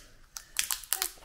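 Release film peels off a laser-cut walnut wood badge for a Land Rover Defender L663 dashboard, giving a few quick, close crackling and crinkling bursts that come in a short cluster, with no talk.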